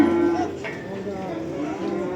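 Cattle at a calf market in Barda give a single drawn-out moo, close and fairly loud, trailing off over about two seconds amid faint market background.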